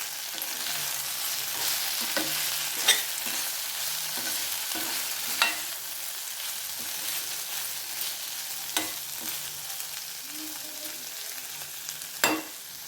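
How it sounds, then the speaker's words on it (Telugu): Brinjal fry being stirred in a pan with green chillies and spices, a steady soft sizzle of frying broken by distinct spoon scrapes and clinks against the pan every few seconds, close and fairly quiet, no talking. "మొత్తాన్ని మిక్స్ చేసేద్దాం."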